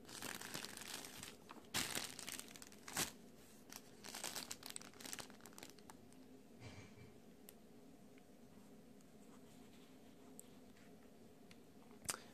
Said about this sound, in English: so time to take the plastic off of this